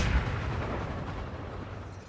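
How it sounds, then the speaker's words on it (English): A gunshot from the James Bond film Skyfall: one heavy low boom at the start, followed by a dense, rumbling wash of sound that fades slowly over about two seconds. "Taking the bloody shot in Skyfall."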